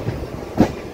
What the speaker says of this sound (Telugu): మన ట్రైన్ అయితే ఇప్పుడు Krishna canal junction train railway స్టేషన్లోకి అయితే ఎంటర్ అవుతుంది